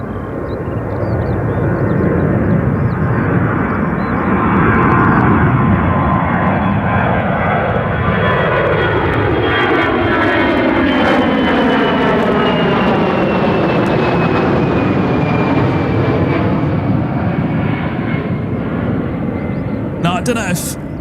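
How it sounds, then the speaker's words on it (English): An airliner departing Gatwick Airport in London gives a loud, sustained jet roar that swells and slowly shifts in pitch for about twenty seconds, with people talking faintly beneath it. "Oh, we got a departure here."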